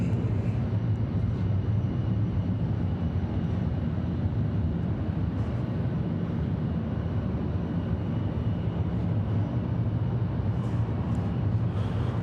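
An airliner arriving at Atlanta Hartsfield-Jackson airport produces a steady, broad jet engine roar that holds at an even, moderate level throughout. No one speaks over it.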